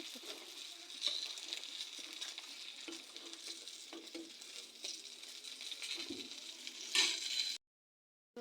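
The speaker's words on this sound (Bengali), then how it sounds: "এখন তেলে দিয়ে দিয়েছি। মাছগুলো লাল করে ভাজি হয়ে গেছে" Pieces of fish frying in hot oil until browned, giving a soft, even sizzle with scattered faint pops and a few louder crackles, alone with no voices, before cutting abruptly to silence near the end.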